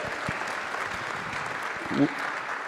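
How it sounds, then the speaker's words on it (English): A crowd gives steady, continuous applause at a Spurs event introducing the team's 2024 NBA draft picks at the Victory Capital Performance Center, with a slight swell near the end. "Clap it up."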